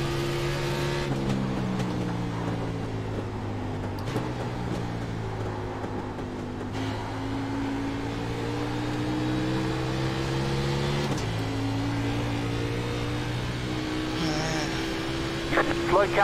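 Xfinity race car engine in iRacing at New Hampshire, a loud droning roar close up, rising in pitch through each gear and dropping at shifts, with someone talking over it.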